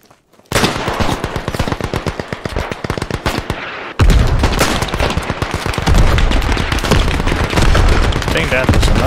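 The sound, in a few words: gunfire in the video game Beyond The Wire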